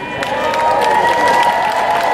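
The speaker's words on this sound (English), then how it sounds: "Our own Australian team, give them a cheer." A crowd cheers and applauds at the start line of a solar car race, a continuous, dense, loud wash of clapping and voices without a break.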